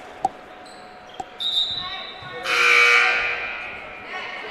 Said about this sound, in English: Buzzer sounds for Freeth.